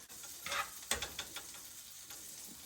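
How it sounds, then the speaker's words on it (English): A turkey, cranberry and brie sandwich fries in butter in a pan, giving a steady close hiss and sizzle with a few small ticking pops and light scrapes in the first second and a half. "All right, in the pan it goes."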